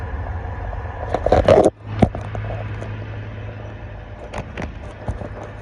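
A car driving on the road, heard from inside the cabin as a steady low engine and road hum, with a few nearby rattles and a brief clunk partway through.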